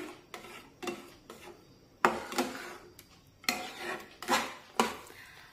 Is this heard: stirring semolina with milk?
yes